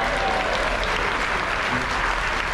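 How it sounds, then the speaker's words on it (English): A large audience applauds the executive chef at a captain's farewell aboard a ship, a dense, steady roar of clapping that holds evenly throughout. "He gets the largest round of applause."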